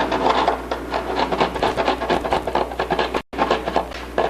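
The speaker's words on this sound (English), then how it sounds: "Grind that out carefully." Close, rapid rasping strokes as brass is ground out to open a passage for a push rod, a steady scratchy rhythm with one brief pause near the end; no talking.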